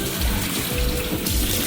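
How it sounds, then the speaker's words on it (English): Tap water runs steadily into a bathroom sink during face washing, a loud continuous splashing rush with slight surges and no voices. "Let me wash my face now."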